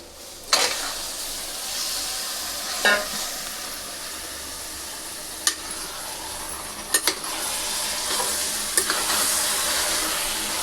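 Chicken is tossed into a pan of softened onions for a chicken curry. A loud, steady sizzle of frying fills the scene, broken by a few sharp clinks and scrapes of a spoon against the pan.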